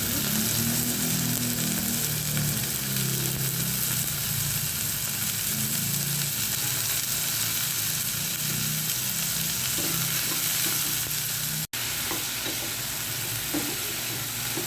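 Marinated beef for beef asado fries in a hot pan with a continuous, close sizzle and crackle, while a spatula stirs it now and then, scraping softly under the steady hiss.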